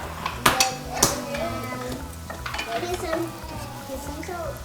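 Butter sizzles in a pan for a gluten-free Thanksgiving gravy. A steady frying hiss runs throughout, broken by clinks and scrapes of a utensil stirring against the pan.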